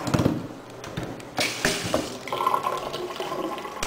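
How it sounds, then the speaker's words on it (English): Water runs from a retractable kitchen sink faucet, a steady splashing hiss that shifts in tone as the flow changes, close by, with a few clunks and handling noises. "You can see the sink here has a"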